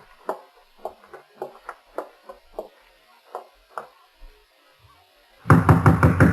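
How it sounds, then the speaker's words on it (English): Firm knocking on an apartment door down a hall in a 1948 radio detective drama, about a dozen sharp raps in uneven groups, followed by a sudden loud burst of sound at the end. "the way you knock gives me the shakes, Nick"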